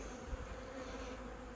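Honeybees hum steadily during a late-season hive inspection in Newfoundland, a thin, sparse colony giving a continuous, fairly quiet close buzz with no voices over it.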